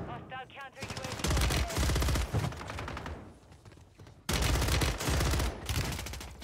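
Bursts of rapid automatic Ram rifle fire in a Warzone 3 Rebirth Island match, two loud sustained volleys close up, separated by a quieter pause with a brief voice.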